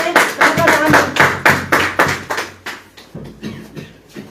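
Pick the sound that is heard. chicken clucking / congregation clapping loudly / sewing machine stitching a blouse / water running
congregation clapping loudly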